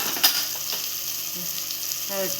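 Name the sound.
onion and tomato cooking in pan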